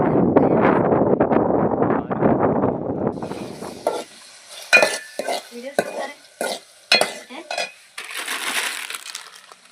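Maggi noodles cooking with green chilies and tomatoes in a pan outdoors, first a steady loud sizzle, then clinking and scraping stirring strokes against the pan.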